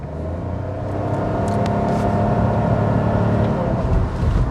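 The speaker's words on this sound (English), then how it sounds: "We get good amount of punch while pressing hard on the accelerator." A 2022 Maruti Suzuki Grand Vitara strong hybrid SUV accelerating hard, heard from inside as a steady, full drone of engine and road noise that climbs slightly and holds throughout.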